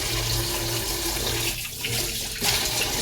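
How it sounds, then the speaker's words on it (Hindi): Water runs steadily from a tap into a pot of cut potatoes in a home kitchen, a continuous close splashing stream with a brief dip partway through. "और इसमें मैं डाल देती हूँ पानी"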